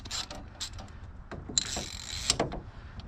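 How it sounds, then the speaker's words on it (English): Mechanical clicking and ratcheting from a ratchet wrench working on a 1997 Crown Victoria intake and exhaust, a few sharp metallic ticks and short grinding pulls, fairly quiet and close. "You got a ratchet."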